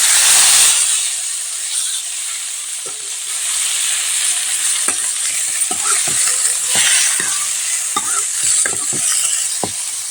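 Tomatoes dropped into hot oil with tempered spices sizzle steadily for about ten seconds, a loud continuous hiss broken by stirring clicks and scrapes, with no talking.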